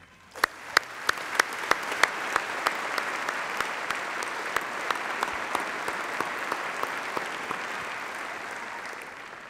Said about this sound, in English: ask that you join me in applauding them